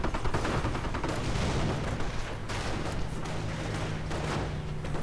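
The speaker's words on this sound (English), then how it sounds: "50 caliber gun joining in the fun." A .50 caliber machine gun rattling off continuous bursts in a World War II strategy video game, dense overlapping gunfire and thumps mixed with other battle noise, loud and sustained through the whole stretch.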